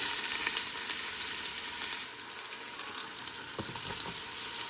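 Chopped onions fry in hot oil spiced with cardamom and cinnamon for chicken biryani, giving a dense, continuous sizzling hiss that is close and steady and eases slightly partway through, with light crackles and no talking.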